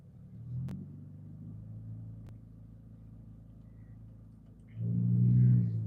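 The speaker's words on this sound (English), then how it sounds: "Since that bridge collapsed, the traffic been wild." Car traffic near a collapsed bridge, a low steady engine rumble with idling vehicles close by and one rising louder near the end, with a couple of sharp clicks and no talk.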